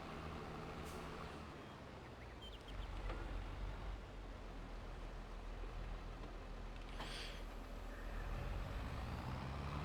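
A tractor engine in Farming Simulator 22 runs as a steady low diesel drone, swelling slightly in intensity, with a short airy hiss rising over it near the end.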